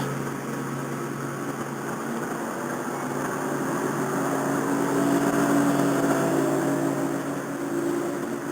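Several fishing tournament boats race away from the start together, a steady broad engine roar that swells slightly and carries on continuously at medium distance, with wind noise mixed in.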